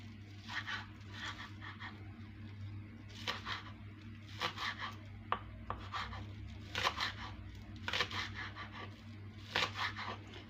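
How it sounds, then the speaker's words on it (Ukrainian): A knife finely chops onion, green onion and parsley, giving soft, quick bursts of cutting and scraping at a steady pace over a low constant hum. The sounds are fairly faint and close. "Також дрібно я покришу цибулю, зелену і петрушку"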